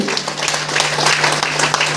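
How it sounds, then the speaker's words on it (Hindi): Audience of women clapping at a meeting in Khalilabad, a dense, lively round of applause that stays full and even for its whole short length. "आप लोग के लिए जबरदस्त ताली होनी चाहिए"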